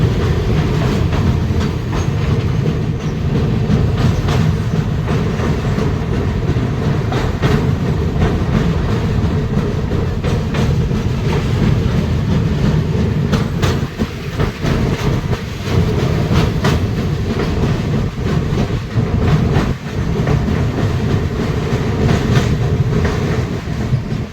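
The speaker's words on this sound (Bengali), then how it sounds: "ট্রেন এবার মেদিনীপুর স্টেশন ঢুকবে।" The Rupasi Bangla Express rolls loudly toward Medinipur station, a steady heavy rumble with rhythmic clickety-clack of wheels over rail joints, continuous and close throughout.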